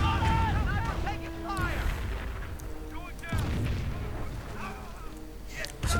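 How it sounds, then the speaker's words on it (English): Nebelwerfer rocket artillery in the Company of Heroes game, firing six 105mm rockets: whooshing launches and rumbling blasts spread over several seconds, mixed with wind-like battle noise and a voice talking over it. "the first round from the Nebelwerfer firing its 6 105mm,"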